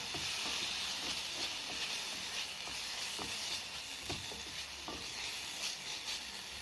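Tomato arrabbiata sauce with chili flakes simmering in a pan gives a steady, close hiss and sizzle, with occasional soft stirring scrapes and bubbling pops throughout.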